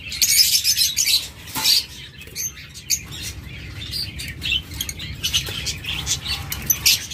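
Caged cockatiels or lovebirds chirp and squeak in a steady, overlapping chorus of bright calls close at hand, with occasional wing flutters and a low background hum.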